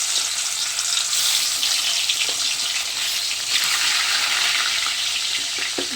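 Bhola fish sizzles steadily in hot oil in a pan, a continuous bright frying hiss with occasional small pops and crackles, close and alone without talk.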